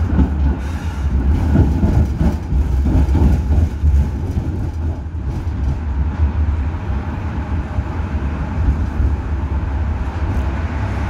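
An old Tatra tram driving into the depot, its motor droning loudly with a deep low rumble and rattling clatter from the wheels, steady throughout.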